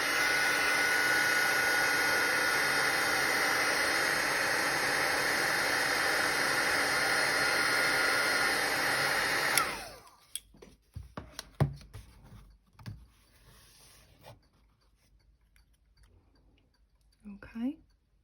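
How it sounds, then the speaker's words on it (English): Craft heat tool blowing hot air onto puff embossing paint on a gingerbread Christmas card, a loud steady whooshing hiss for about ten seconds that cuts off abruptly, followed by soft handling clicks and rustles. "We're going to grab our heat tool again."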